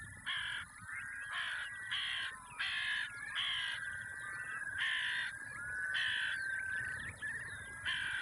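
Harsh crow caws repeat in a steady series, about a dozen loud calls close by with short gaps between them.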